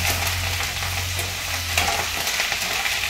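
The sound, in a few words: washed curry leaves sizzling in hot oil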